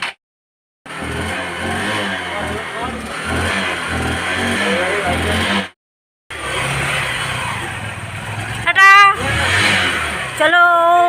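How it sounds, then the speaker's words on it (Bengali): A car engine runs loud and rough with a brief cutoff after failing to start, then restarts and keeps running; a few short tonal chirps sound near the end. "গাড়ি স্টার্ট হচ্ছে না এখন স্টার্ট দেওয়া হচ্ছে"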